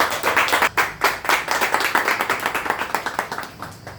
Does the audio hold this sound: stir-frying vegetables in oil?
no